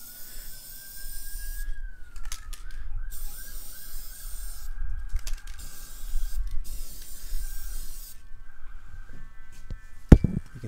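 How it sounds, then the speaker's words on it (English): Clear low-odor fixative hisses from an aerosol can onto oil pastel paintings in several long sprays separated by pauses, with a faint tone running underneath and a sharp click near the end. "Otherwise, all this spray is just going to get sprayed off."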